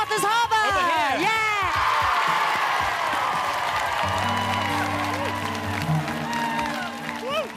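Concert audience applauding and cheering for a band after a song, a loud dense crowd of clapping with whoops, gradually thinning as a sustained backing tone comes in.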